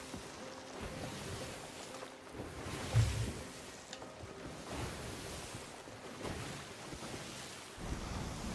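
Sailing ship moving across ocean waves in the video game Sea of Thieves, with a steady wash of water and wind rushing continuously in the background, faint and even throughout.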